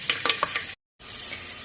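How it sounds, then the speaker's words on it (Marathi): Cumin, mustard seeds, grated ginger, garlic, curry leaves and dried red chillies sizzle in hot oil for a tempering, a steady close hiss with a brief silent break partway through. "फोडणीसाठी घेतलेला आहे जिरे, मोहरी, खिसलेला आलं, लसूण, भरपूर सारा कढीपत्ता आणि लाल सुक्या मिरच्या।"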